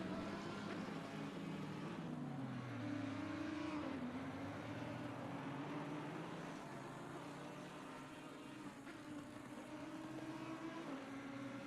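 Racing car engines from a McLaren and a Lamborghini in a sim race at the Nürburgring, a steady loud drone with rising and falling revs as the cars duel closely, no talk.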